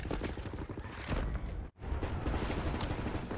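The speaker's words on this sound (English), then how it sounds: "Right, lads, you ready to lay down suppressor fire?" Sustained suppressing gunfire in Wolfenstein: The New Order, dense rapid shots and impacts rattling on continuously, briefly cut off by a momentary gap before resuming just as heavily, with no voices.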